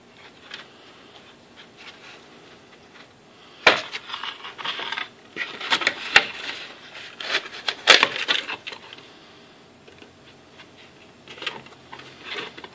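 A blade cuts through a plastic radial flow filter for an aquaponics setup, producing scraping, crunching rasps and a few sharp cracks that come in irregular bursts, close up and moderately loud.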